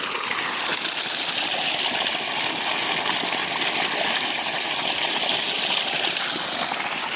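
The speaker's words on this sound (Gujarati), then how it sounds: "તો કાકાના મોગરામાં પાણી ચાલુ છે" Water rushes steadily through an onion seed field, fed by a pesticide spray pump that serves as an irrigation rig. The flow is loud, close and unbroken for the whole stretch, with no voices over it.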